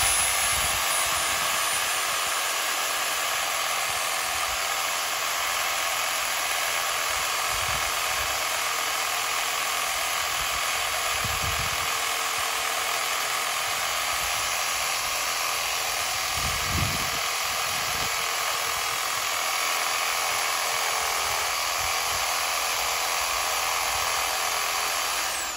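A power saw cutting a tree: steady, loud high-pitched motor whine held for a long stretch, with faint low thumps beneath and no clear pauses.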